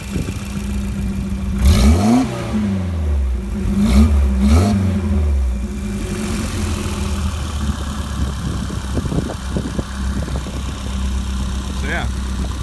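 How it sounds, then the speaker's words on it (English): Turbocharged Volvo drift car engine revved through a side pipe exhaust, two quick rising revs early, then a steady loud idle, recorded up close with talking over it. "Here, I'll give you a little rev up from the side pipe here."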